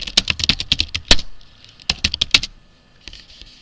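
Fingers typing a name on a computer keyboard, close and crisp key clicks in two quick bursts with a short pause between, then a few faint taps, no talking.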